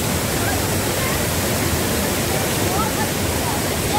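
Steady, dense rush of a flowing valley stream in Korea in summer, continuous and fairly loud throughout with no breaks.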